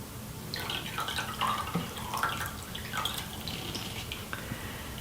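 Dyed lake water sample being poured into a twice-rinsed bowl, giving a steady stream of splashing and dripping liquid at close range for several seconds, with no talking.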